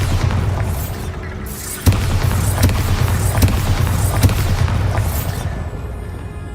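Bombarda spell explosions in Hogwarts Legacy, a sustained roar of booming blasts with several sharp heavy impacts, loud and continuous with no speech.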